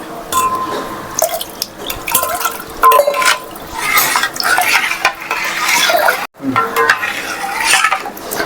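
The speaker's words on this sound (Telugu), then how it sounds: "కొంచెం వాటర్ యాడ్ చేద్దాం." Water is added to raw tamarind rasam (pachipulusu) in a pot, with pouring and trickling splashes and clinking stirs of a metal spoon against the vessel, close and loud, broken by a brief pause.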